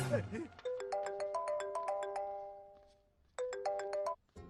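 A mobile phone ringtone plays a bright repeating electronic melody for an incoming call, loud and close, stopping briefly before starting again, with a voice at the very start.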